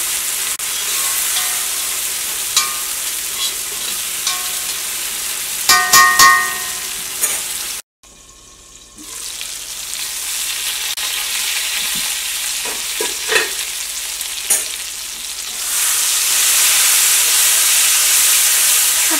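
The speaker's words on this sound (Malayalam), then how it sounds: "ഇനി ഇതെല്ലാം കൂടിയിട്ട് മിക്സ് ചെയ്ത് കഴിഞ്ഞ് കഴിഞ്ഞിട്ട് നമ്മൾ മൂടി വയ്ക്കാം" Tomato masala with garam masala fries and gets stirred in a pan, a loud close sizzle with repeated scraping strokes and clinks, briefly cut off midway before the hissing frying resumes and grows steadier.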